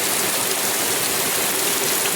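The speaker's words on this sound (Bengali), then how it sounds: "এখনকার বৃষ্টি আর সোজা হয় না, পুরো বেঁকে বেঁকে বৃষ্টি হচ্ছে" Heavy monsoon rain falls outside in the Sundarbans, blown slantwise by the wind, a loud, dense and unbroken hiss with no talking.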